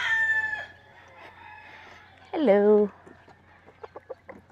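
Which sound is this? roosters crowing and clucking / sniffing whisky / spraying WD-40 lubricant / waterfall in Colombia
roosters crowing and clucking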